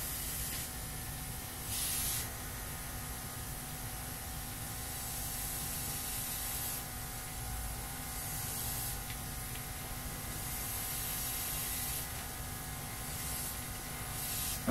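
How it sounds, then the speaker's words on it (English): A soft, steady hiss from a wireless airbrush spraying ink at very low pressure, with a faint background hum and short louder puffs now and then. "Looks like it's spraying pretty good."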